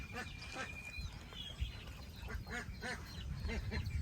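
Ducks quack repeatedly in short nasal calls at close range, several birds overlapping against a steady outdoor rumble, with a brief whistle-like tone early on.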